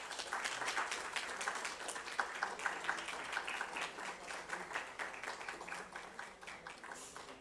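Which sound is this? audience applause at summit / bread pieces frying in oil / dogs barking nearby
audience applause at summit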